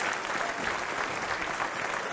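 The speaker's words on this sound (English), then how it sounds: "a standing ovation from the crowd" A wrestling crowd in Newcastle gives a standing ovation after a tag-team match, with dense, sustained applause filling the arena at a steady level.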